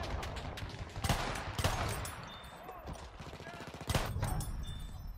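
Bursts of shotgun fire in the Battlefield 1 video game on the Argonne forest map, a few sharp loud blasts over a busy, rumbling battle background.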